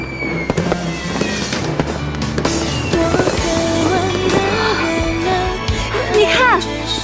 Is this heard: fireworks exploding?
yes